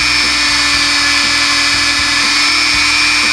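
A rotary tool polishes the feed ramp of a Taurus pistol, giving a loud, steady high-pitched whine with a faint rhythmic grinding pulse as it moves up and down against the metal.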